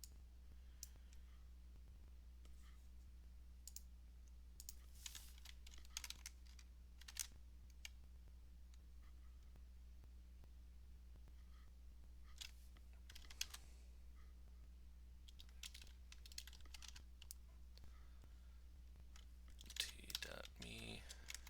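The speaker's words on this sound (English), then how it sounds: "Let me type this in another window." Someone types in bursts of clicks on a computer keyboard while doing malware analysis, with faint irregular key taps spread over a steady low hum and quiet room noise.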